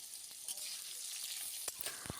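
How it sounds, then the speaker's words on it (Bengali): Potatoes frying in oil, a faint, steady hiss of sizzling with a few soft crackles and pops. "আলু তো ভাজা চলছে"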